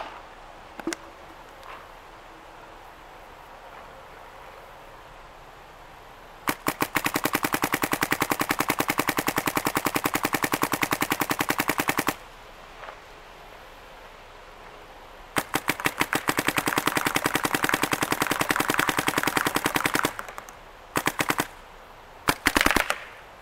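A Dye DSR paintball marker fires paintballs in two long, rapid bursts of sharp, evenly spaced shots, followed by a few short strings of shots near the end, with quiet outdoor pauses between the bursts.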